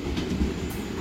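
Tegal Bahari passenger train, a long Indonesian train, running on the rails with a steady loud rumble and rhythmic wheel clatter.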